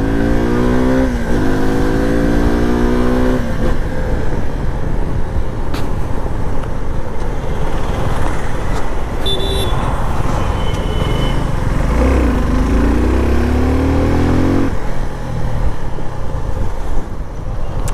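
A 2024 Suzuki V-Strom SX250 motorcycle engine idles close by, then revs up and down in several rising and falling sweeps, loud and alone.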